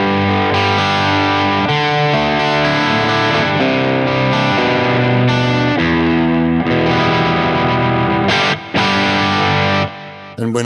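Electric guitar rhythm part played loud and continuously through a ToneX amp-modeling rig with distortion and a lush chorus effect, sustained chords ringing throughout and briefly dropping out near the end.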